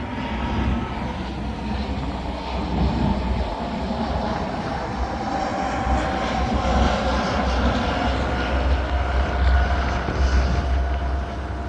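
Loud, continuous roar of a fixed-wing airplane passing overhead near an airport, heard from a gravel shoreline fishing spot, droning steadily and filling the whole stretch.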